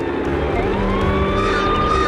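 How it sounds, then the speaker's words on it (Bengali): A wailing police siren in a cartoon, loud and close, its rising and falling tone sustained over a rumbling vehicle sound. "সাইরেনটা বন্ধ করো।"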